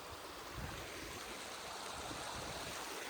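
A hillside stream near Saputara rushes steadily, a soft, even hiss with no voices.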